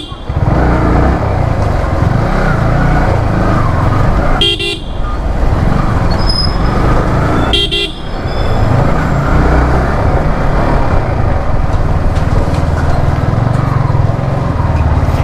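Road traffic passes around a moving R15 motorcycle stuck in a long queue near a college: a constant engine and road rumble, broken twice by short car-horn toots.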